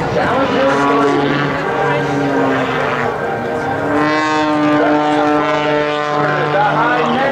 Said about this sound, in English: It's a one-of-a-kind aircraft built specifically for Sean, and right now you're going to see just what it's capable of.